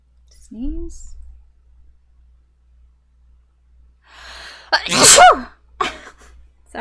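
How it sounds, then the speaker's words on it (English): A single sharp human sneeze about five seconds in, preceded by a short vocal sound and a quiet intake of breath, close and clear in a quiet room. "I have to sneeze though."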